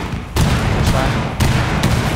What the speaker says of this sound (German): Da explodiert's gerade im Bombenraum.